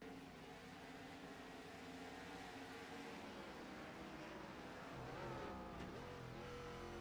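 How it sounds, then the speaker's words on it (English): Race car engine in the iRacing sim at Barber, running loud and steady with rising and falling revs as it downshifts hard into a turn after locking up, the pitch dropping through the gears. "You can hear him downshift furiously"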